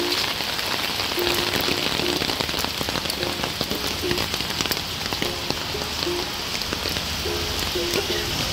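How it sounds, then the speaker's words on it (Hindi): Heavy rain pours down steadily outside, a dense, continuous hiss of drops striking surfaces, with faint periodic beeping tones in the background and no talk. "बापरे कि वर्षा देखो"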